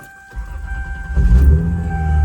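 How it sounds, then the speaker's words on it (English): A car engine cold-starts on a chilly New York day: a brief starter crank, then the engine catches and settles into a loud, steady low idle close by. "All right, turning on car."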